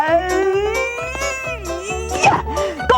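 A cat meows repeatedly in a kitchen, several drawn-out wavering cries in a row, close and fairly loud with a little background clatter.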